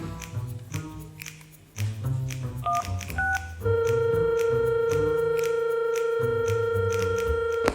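Tones of a phone dialing out for a video call: a quick run of stepped beeps, then a steady ringing tone holding on, loud and clear with no talk over it.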